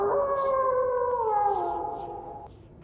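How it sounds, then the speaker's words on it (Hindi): A dog howls mournfully in a horror story sound effect, a single long wavering cry that slowly falls in pitch and fades away over a low background hiss. "तभी कहीं दूर से कुत्ते की रोने की आवाज सुनाई पड़ी।"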